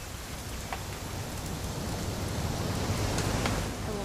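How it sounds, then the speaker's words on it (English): Steady rain falling in the video game What Remains of Edith Finch, a continuous soft hiss with occasional louder drops, unbroken throughout. "It's gonna rain the whole weekend, isn't it?"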